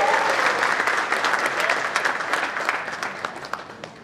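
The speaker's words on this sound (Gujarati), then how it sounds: "ચીચિયારીઓ સાથેની તાળીઓ છે એક વખત વધારી લઈશું" Dense applause from an audience at a finance conference welcome speech, loud and continuous, with a few cheers in the mix and gradually thinning toward the end.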